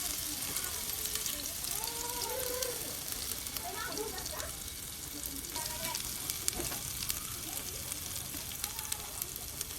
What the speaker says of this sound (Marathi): त्याच्यात अद्रक लसणची पेस्ट टाकली आहे